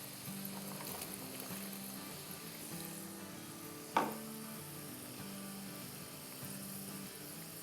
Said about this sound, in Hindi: अब 2-4 मिनट फ्राई कर लेंगे जब तक कि प्याज भी थोड़ी सी नरम हो जाए और आलू का कलर थोड़ा और चेंज हो जाए